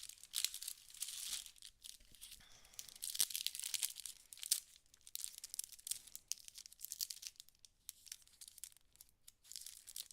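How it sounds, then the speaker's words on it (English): A plastic sticker package being opened at a craft table, giving close, continuous crinkling and tearing with rustling bursts throughout and no talking. "I can get the package open."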